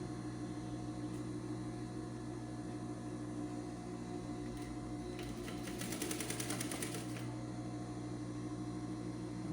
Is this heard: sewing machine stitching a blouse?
yes